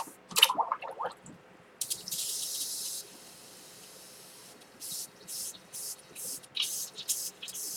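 Water in a bucket used while airbrushing, with a short splashy burst, then sharp spraying hisses that come in repeated pulses with quiet gaps between them.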